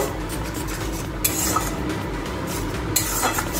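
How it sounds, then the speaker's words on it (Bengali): Ginger, garlic and green chili paste stir-fried in a pan for Kolkata-style egg devil, with a steady low sizzle under repeated scraping of a utensil against the pan and a few sharper metallic clinks. "এবার এটাকে ভালো করে কষিয়ে নেব"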